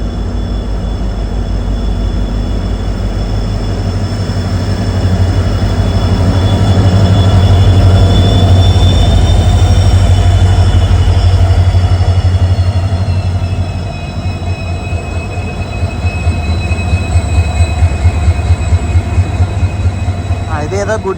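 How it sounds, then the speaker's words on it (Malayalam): A goods train rolls past on the adjacent track during a rail journey through Assam, a loud, steady low rumble with rhythmic wheel clatter and faint squeal, swelling in the middle and then easing as the wagons continue by. "ഇത് ഏതോ ഗുഡ്സ് ആണെന്ന് തോന്നുന്നു"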